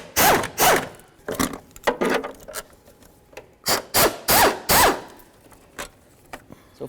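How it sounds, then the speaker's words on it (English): Ratchet wrench loosening 10 mm bolts at the fuse box of an 08-12 Jeep Liberty, heard as close bursts of rapid clicking and rasping in several short runs, with brief pauses and softer metallic handling between them. "I just have a ratchet wrench. Remove that bolt."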